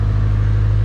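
A Nissan 180SX idles close by with a loud, low engine drone, steady in this brief moment while the revs hunt, no voices present.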